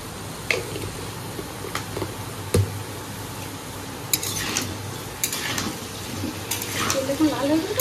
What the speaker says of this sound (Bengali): আর আলুগুলো এখানে কেটে রাখা হচ্ছে, এগুলোকে এখন কিছুটা অল্প করে ভাজতে হবে